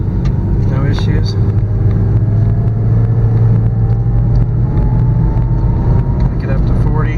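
A Nissan Versa accelerating on the road after a brake job, its engine drone and tyre rumble steady and close from inside the cabin, with a rising tone as speed builds.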